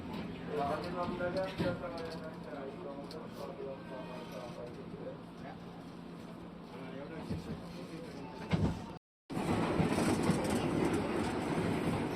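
KRL commuter train ride in Jakarta, a steady interior rumble with rhythmic wheel clatter and rail noise, heard from inside the carriage with voices speaking over it and a brief cut near the end.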